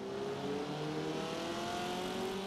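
A race car in the Forza Motorsport 7 video game accelerates away, its engine note climbing steadily in pitch as a rising droning whine that stays moderate in loudness throughout.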